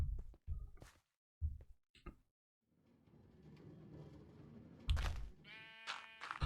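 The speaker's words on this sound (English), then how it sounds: "Again, sheep everywhere." Blocky Minecraft sheep bleat in short repeated calls, several separate bleats spaced irregularly, loud and close, with footstep-like game sounds and faint background noise in between.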